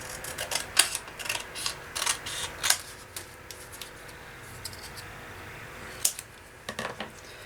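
Paper card being cut by hand for a journal page, a run of crisp close snips and clicks in irregular bursts, some louder than others, with quiet gaps between.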